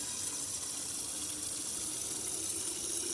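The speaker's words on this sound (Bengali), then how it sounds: "এটাতে পানি ছাড়তেছি।" Water running steadily into a container being filled for a money plant cutting, a continuous close pour with no talk over it.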